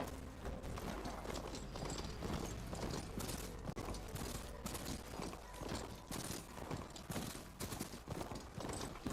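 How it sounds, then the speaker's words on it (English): A horse's hooves clip-clop in a rapid, uneven rhythm, fairly faint and set against a steady background rumble. "aquí está mi caballo"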